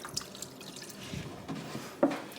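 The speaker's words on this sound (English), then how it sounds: "I'm just going around with my fertilizer water" Fertilizer water trickles and drips softly into houseplant pots indoors, faint and close, with a slightly louder splash near the end.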